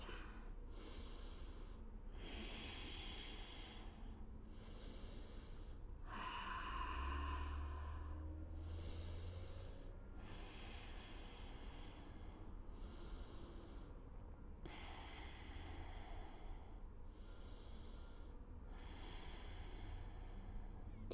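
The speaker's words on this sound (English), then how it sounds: "5 deep breaths." Slow, deep breaths during a yoga pigeon pose, steady inhales and exhales repeating every couple of seconds, close and soft, with one fuller breath partway through and no talking.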